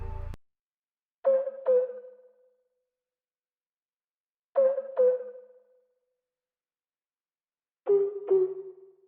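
A simple synth one-shot pattern plays alone in three evenly spaced phrases, each a quick pair of plucky stabs with a short decaying tail, separated by silence.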